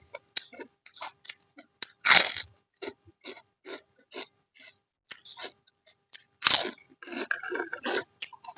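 Crunchy chewing and biting while eating pork in a spicy Thai tam sua salad, a series of close, distinct crunches with short pauses between them and two louder bites standing out.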